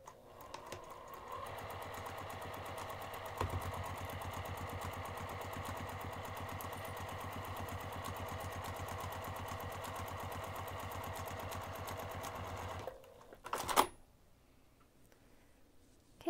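A sewing machine runs a seam on a craft bag with one long, even, humming stitch of about thirteen seconds, then stops. A brief clatter follows at the end.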